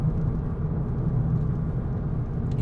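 Steady low road rumble and tire roar from a VW Polo GTI driving on a road, heard from inside the cabin as a continuous even drone with no talk.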